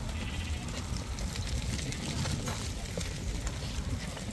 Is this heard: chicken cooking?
no